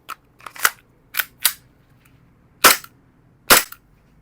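E&C gas blowback airsoft pistol fired in test shots, six sharp snapping pops at irregular intervals, close and loud over a quiet background.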